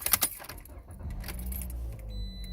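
A Toyota car starts up after a pedal harness installation: keys jangle loudly at the start, then a low, steady engine rumble settles in and continues, close by.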